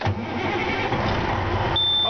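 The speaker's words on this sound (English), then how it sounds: "I'm going to turn this key and fire this truck up" A truck engine cranks loudly and catches into a rough idle, then a thin electronic beep starts up near the end.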